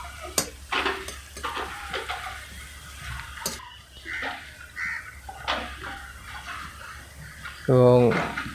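Ginger and garlic paste hitting hot oil with onions in a pan for a restaurant-style vegetable dal, with sizzling, spoon stirring and scraping, ending in a brief loud burst; no speech.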